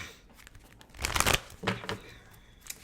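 Oracle cards are shuffled for a reading in a few quick riffling bursts, one longer flurry followed by shorter riffles, close and crisp against a quiet room.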